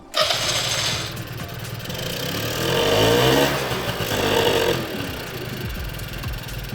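A small moped engine with a faulty supplementary fuel feed idles steadily nearby, its revs rising and falling slightly in the middle before settling back to a steady putter.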